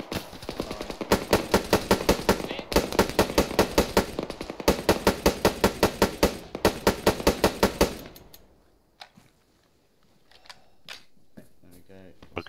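Machine gun firing from a hill, rapid rhythmic bursts of loud cracking shots repeated over several seconds, then breaking off into quieter scattered sounds.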